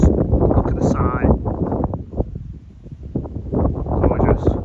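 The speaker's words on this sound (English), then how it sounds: "Even though it's windy" Strong gusty wind buffets an outdoor microphone in broad low rumbling surges, easing briefly mid-way before picking up again, heard alone without talk.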